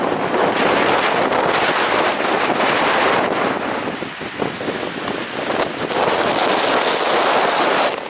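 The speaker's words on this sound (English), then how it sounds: "you can hear the wind whipping" Strong wind whips across a hillside rim above a drainage, a loud continuous roar buffeting the microphone with brief lulls, no voices.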